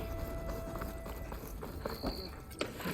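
Horse hooves clip-clop at a steady walking pace in Horizon Forbidden West, faint and muffled beneath a thick bed of game ambience with a few higher tones.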